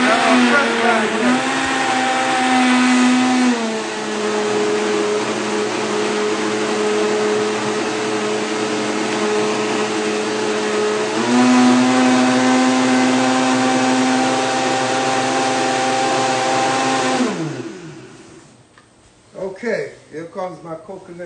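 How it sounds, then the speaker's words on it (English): A blender whirs loudly and steadily, blending fresh food with coconut water, its motor pitch shifting a couple of times before winding down, followed by brief clatter. "We're going to put this up here and we're going to blend it."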